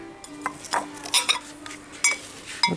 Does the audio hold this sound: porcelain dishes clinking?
yes